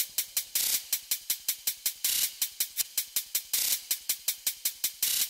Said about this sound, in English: So I got this cool little hi-hat pattern.